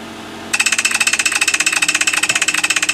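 Toyota Venza engine running, starting after half a second with a loud, rapid pulsing idle that repeats evenly and close by, with no talking.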